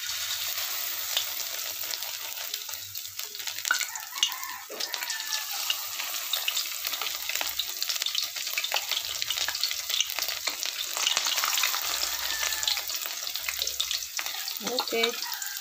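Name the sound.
frying tortang bolinao (anchovy fritters) in oil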